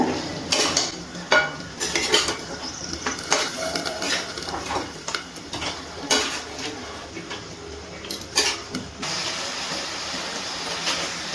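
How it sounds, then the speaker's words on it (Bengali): Chicken with ground cumin and coriander is sautéed in a pan while a spoon scrapes and clinks against the metal in an irregular rhythm over a low, continuous sizzle. "এবার আমি ভালো করে কষিয়ে নিচ্ছি চিকেনটা।"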